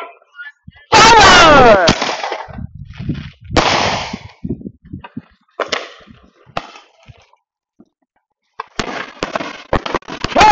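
Fireworks go off in a loud family display nearby, with several sharp bursts and crackling tails separated by brief quiet gaps, ending in a rapid cluster of cracks.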